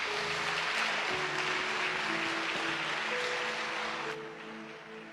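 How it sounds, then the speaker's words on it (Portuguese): Broad, steady applause from a church congregation fills the room, holding loud and then easing slightly toward the end, with a faint sustained tone underneath. "Você pode aplaudir a Deus por essa palavra?"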